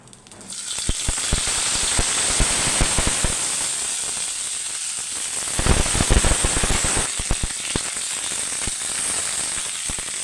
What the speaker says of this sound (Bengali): পাতাগুলো আর শুটকিগুলো ভেজে নিব